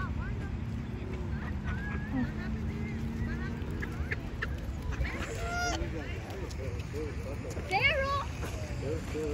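Geese honking at a park pond, several nasal calls scattered over the clip with a louder burst near the end, set against ambient murmur and distant voices of people feeding the birds.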